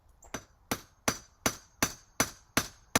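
A hammer drives a grounding rod into the ground for an off-grid solar system, eight sharp metallic strikes at a steady, slightly quickening pace, loud and close.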